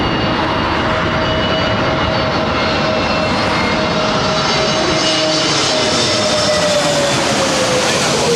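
Airbus A380 jet engines roar loud and constant on the runway, a dense broadband rumble with a rising whine, steady throughout.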